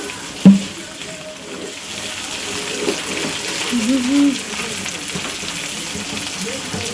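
Tomato manchurian frying in a pan, a soft steady sizzle running throughout with some faint stirring and a brief knock near the start.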